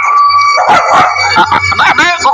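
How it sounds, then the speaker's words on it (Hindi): A cartoon dog barks and yips in a few short, loud bursts with whining, howl-like cries, close up and bright. "कुत्ते कहाँ पे आ गया?"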